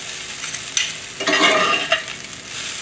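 Chicken fried rice stir-fried in a hot pan, lumps of starchy rice pressed down as it cooks, giving steady close sizzling with louder bursts of stirring and scraping, no voices.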